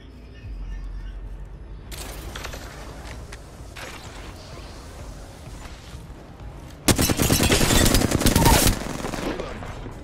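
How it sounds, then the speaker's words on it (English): Gunfire in the video game Apex Legends aimed at a Mirage character: scattered mechanical clicks and shots, then a loud sustained burst of rapid automatic fire near the end, with faint voices underneath. "I'm gonna shoot that Mirage right"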